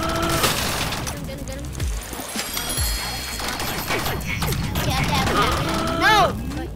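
Rapid bursts of gunfire and crashing impacts in a robot apocalypse video game, with shots from teammates, loud and continuous under a busy mix, with a voice talking over it.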